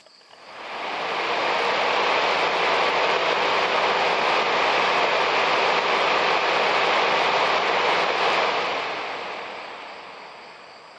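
Electric car radiator fan spinning on a bench test: a broad, steady whooshing roar swells up within a second, holds evenly, then winds down toward the end, close and loud.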